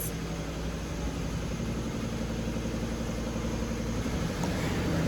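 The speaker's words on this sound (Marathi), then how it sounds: "गाडीचा आवाज." A vehicle engine runs steadily at close range, a continuous low rumble with broadband hiss that holds level throughout, with no voices over it.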